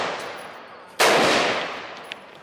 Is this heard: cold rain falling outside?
no